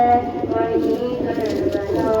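Pigeons coo in a steady, throaty rhythm close by, with a voice sounding alongside the calls.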